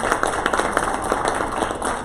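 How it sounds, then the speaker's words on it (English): Student government senate audience clapping for two senators, a dense, steady wash of many hands applauding close by, sustained without a break for the full stretch. "So if you guys want to give them a round of applause,"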